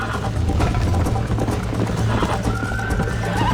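Steady rhythmic hoofbeats of a galloping horse in Red Dead Redemption, with a whinny and background music running throughout.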